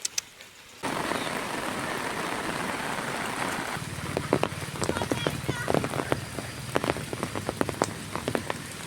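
Rain falling on a hike to Lauke Jharna waterfall: a sudden, steady patter of drops on surfaces begins after a moment of quiet and keeps going, with voices talking over it in the second half.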